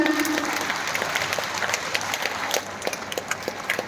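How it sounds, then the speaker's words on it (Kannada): A crowd clapping at a Buddha Purnima meditation program in Bangalore, a broad, continuous rattle of many hands that holds steady and then thins into scattered individual claps toward the end. "ದೊಡ್ಡ ಚಪ್ಪಾಳೆಗಳ ಮೂಲಕ ನಮ್ಮ ಸಂಭ್ರಮವನ್ನು ಸೂಚಿಸೋಣ"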